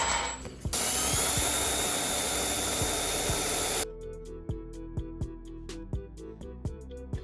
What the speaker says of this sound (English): we're gonna drill it a little bit wider with a step bit